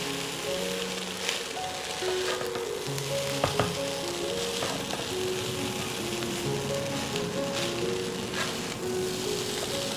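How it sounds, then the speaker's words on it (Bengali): Chicken fried rice is stir-fried and mixed in a pan, with a loud, continuous close sizzle and a few soft spatula knocks and scrapes, and no one talking. "আমি এখন সবটুকু ভাত রাইসটা আমি এখন মিশিয়ে নেব।"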